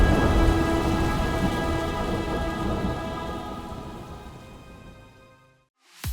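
A thunder and rain sound effect: dense, steady rainfall with a deep rolling rumble that fades gradually toward silence before a sharp burst at the end.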